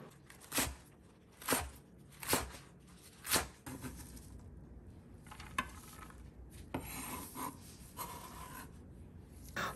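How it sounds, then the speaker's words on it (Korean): A knife chops green onions on a cutting board in a Korean kitchen, first with four distinct, evenly spaced sharp cuts, then with quicker, lighter taps. The cuts sound close and crisp, with no talking. "먼저 쪽파부터 썰어 볼게요"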